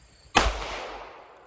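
A single gunshot from a Standard Manufacturing switch gun fired outdoors, one sharp loud crack followed by a brief fading echo, with no voices.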